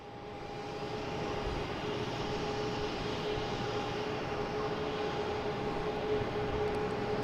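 An airplane taxiing on taxiway Charlie at Boston Logan Airport gives a continuous, even engine drone with a faint steady whine. It swells slightly in the first second and then holds at a moderate distance.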